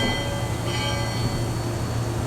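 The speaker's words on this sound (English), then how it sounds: "Sound blast bell." Riverboat bell aboard the Liberty Belle, a steady ringing tone held over a constant low engine drone and ship background, continuous for a couple of seconds.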